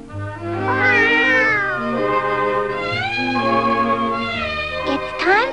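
Cartoon cat Figaro from a 1946 short meowing in a run of drawn-out, wavering meows and yowls, loud and close, with no talking.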